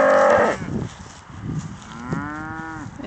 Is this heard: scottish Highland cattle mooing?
yes